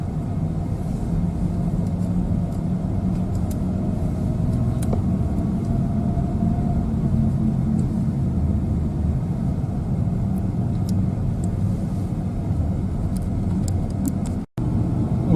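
A car drives along a country road in the Komi forest in spring, a steady loud engine and tyre rumble running without a break for about fifteen seconds before cutting out briefly near the end.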